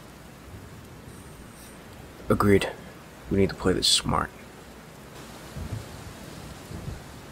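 Steady rain hisses with low rumbles of thunder in a Minecraft zombie-survival roleplay, a soft continuous wash under short bursts of conversation.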